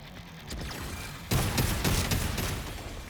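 Rapid gunfire from the Assault Shift weapon in the mech shooter Daemon X Machina, a dense close burst that starts about one second in and runs to the end over a lighter background of game noise.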